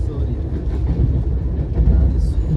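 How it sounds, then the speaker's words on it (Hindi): Central Railway Rajdhani 22221 push-pull express hauled by a WAP7 locomotive running at speed, a loud steady low rumble and roar heard from inside the train throughout. "क्या स्पीड है इस ट्रेन की"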